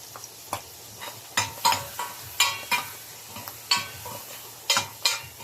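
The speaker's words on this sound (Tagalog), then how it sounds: "Then mix lang natin siya guys hanggang sa parang luto na yung ating tahong." Mussels sautéing in a pan, stirred with a utensil that gives a series of sharp scraping clicks at an irregular rhythm over a faint sizzle, close by with no voices.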